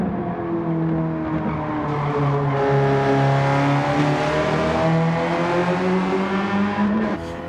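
A race car in Gran Turismo 7 drives with a steady, loud engine drone that rises and falls in pitch, with tire squeal mixed in throughout.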